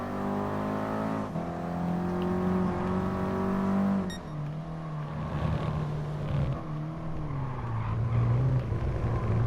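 Race car engine in Gran Turismo Sport revving steadily with rising and falling pitch, loud and close, shifting tone about midway through, with no talk over it.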